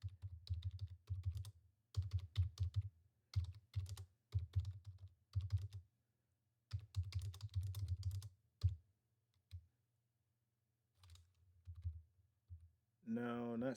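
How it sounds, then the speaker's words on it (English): Fast bursts of clicking on a computer keyboard, close and fairly quiet, broken by short pauses, with a brief spoken word near the end. "I should have just kept typing."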